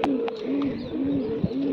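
Pigeons at a racing-pigeon association tournament coo in repeated soft, low rolling phrases, close and clear, with a few faint chirps and clicks around them and no talk.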